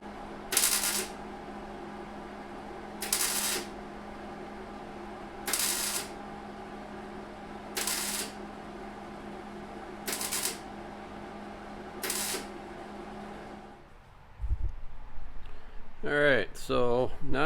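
Six short, evenly spaced bursts of welding on an outer cowl shoulder repair ring out over a steady background hum, each lasting about half a second, followed by a rustling shuffle near the end.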